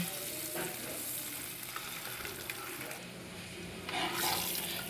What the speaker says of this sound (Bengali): ডিমটা বেশ নাড়াচাড়া করে আমি ভেজে নিচ্ছি